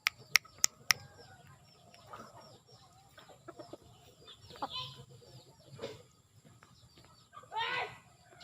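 Occasional soft clucks from a Thai fighting rooster amid quiet farmyard background, with a few sharp clicks near the start and a louder squawk-like burst toward the end.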